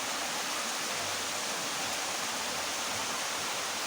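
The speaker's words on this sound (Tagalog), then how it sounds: "lakas ng agos" A strong river current rushes continuously and loudly close by, a dense broadband roar of churning water with no pauses.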